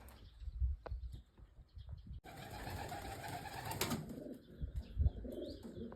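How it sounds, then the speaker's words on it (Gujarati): Pigeons make soft coos and a flutter of wings close by. Light bird chirps and ambient noise sit around them, and no one talks. "અહીંયા મસ્ત કબૂતર છે"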